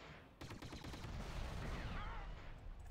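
An E-Web heavy repeating turret opens up in a Star Wars battle game, a rapid run of blaster shots that settles into a dense, continuous roar of fire and explosions, loud and close.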